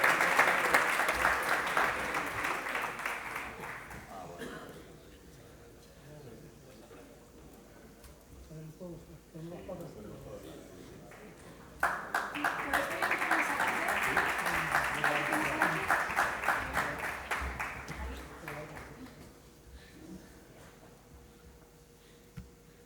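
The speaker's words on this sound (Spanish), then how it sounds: "un aplauso para ellos por este merecido reconocimiento" Audience applauding an award recognition at an industrial business event: a burst of clapping fades out, a speaker talks over a quieter room, then a second loud round of applause swells and tapers off.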